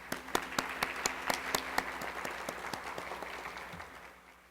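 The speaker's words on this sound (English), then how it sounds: "Please join me in applauding Mrs." Sparse, distinct handclaps from a lecture audience sound fairly faint and slightly distant, a loose scattering of individual claps over a low room hum that thins out toward the end.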